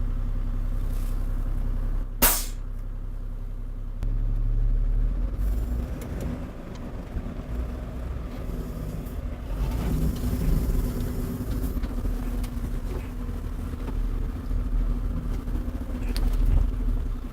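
An IVECO Eurocargo 4x4 fire truck creeps around a tight corner, its diesel engine droning steadily and close, with a low constant hum and a single sharp click early on.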